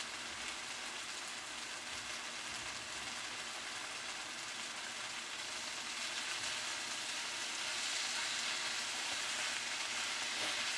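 Fresh Napa cabbage stir-frying in a pan alongside steak and shrimp, a continuous close crackling sizzle that swells slightly louder toward the end, with no one speaking.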